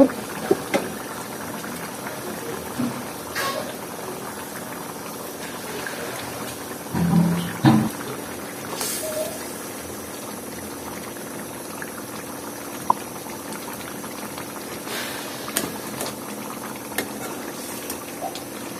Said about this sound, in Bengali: এই তো কাঁকরোলটা ফুটে গেছে।